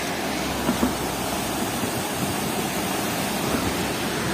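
The Song River at Maldevta near Dehradun flows with a clear current, making a continuous, even rushing wash of water with no voices over it.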